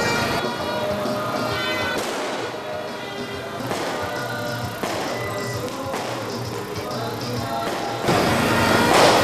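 Repeated booming bursts of fireworks, roughly every two seconds, with crackling in between and a steady wash of noise underneath.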